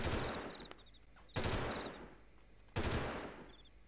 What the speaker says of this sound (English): Now somebody is shooting at me.